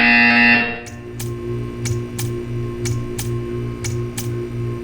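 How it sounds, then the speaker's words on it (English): A buzzer in the video game Portal 2 sounds as a steady electronic drone after a brief louder opening tone, with sharp pulses recurring about every half second over a low hum. "You will hear a buzzer. When you hear the buzzer, stare at the art."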